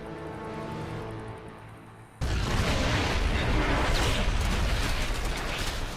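A cannon blows up in a StarCraft 2 Heart of the Swarm cinematic, a sudden loud explosive boom cutting in after a quieter humming stretch, then a sustained roaring rumble of debris and fire.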